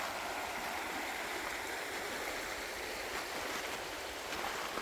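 Steady broadband rush of a river flowing at a nature preserve in the southern Ozarks, continuous and fairly loud throughout with no voices.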